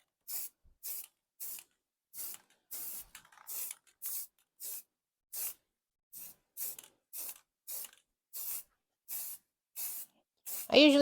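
A rattle can of etching primer coating a Worthington Ingeco engine head: a close series of about seventeen short, evenly spaced hissing spray bursts, with a brief voice at the very end.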